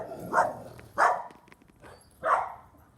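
Three sharp dog barks spaced about a second apart, fairly close, with quiet gaps between them.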